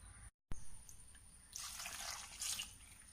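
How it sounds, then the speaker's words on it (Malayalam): A cup of water is poured into a pot of chicken stew seasoned with turmeric and salt, a soft, close splashing trickle that swells for about a second and then tapers off. "ഇത്രയും ചേർത്ത് 1 കപ്പ് വെള്ളവും കൂടി ഒഴിക്കാം."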